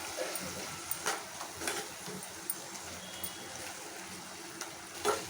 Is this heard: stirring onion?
yes